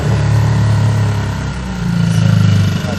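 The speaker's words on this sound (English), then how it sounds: "How do you stop the engine? Really loud." Small boat outboard idling close by with a steady low throb that dips briefly and then swells again.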